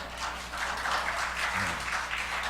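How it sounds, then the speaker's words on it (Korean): A church congregation claps together in a large room, a continuous wash of hand claps at moderate volume with no voices over it. "박수를 치셔야 되지 않습니까, 여러분?"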